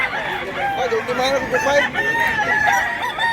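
Overlapping crows from gamefowl roosters in Mantalungon, Barili, Cebu ring out loud and close, with wavering drawn-out calls and clucks over a busy background murmur.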